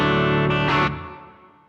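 A guitar through the clean green channel of a Marshall JVM amp with its built-in reverb rings out, a sustained chord joined by a couple of fresh strums, then decays smoothly with a reverb tail and no talking.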